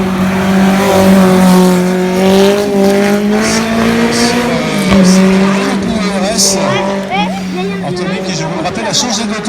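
Race car drifting through a hairpin at the Tancarville hillclimb, a loud engine roar with harmonic whine rising and falling and brief tire squeal, heard alongside crowd chatter and a commentator's voice.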